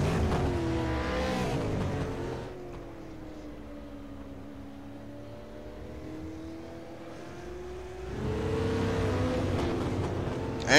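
Race cars in an outlaw enduro at South Boston speedway, engines droning past in the distance with a pitch that rises and falls as the pack circles, louder at the start and end and fainter in the middle.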